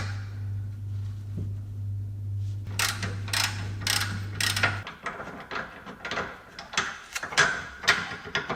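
Ratchet on a rear suspension bolt of a Jaguar S-Type during a rear suspension teardown, a quick series of close metallic clicks and clacks that follows a steady low hum, with no talk.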